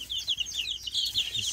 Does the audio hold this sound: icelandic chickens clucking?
yes